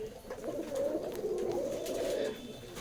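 Pigeons coo in a low, continuous warble at a village bird-keeping spot in Amgoria, Purba Bardhaman, moderately close with faint background noise.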